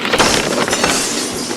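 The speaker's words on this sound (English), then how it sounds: "The house rocked, broken glass tingled everywhere." Cartoon crash of a house being struck, with glass breaking and shattering all around in a dense, loud burst that carries on without a pause.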